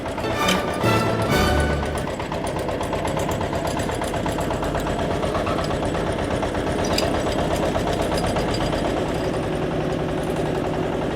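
A walking tractor (power tiller) engine pulls away in second gear with the high-range lever engaged, a loud steady chugging putter that runs continuously close by.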